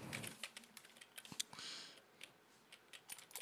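Quick bursts of typing on a computer keyboard, close and quiet, with irregular clusters of light key clicks and short pauses in between.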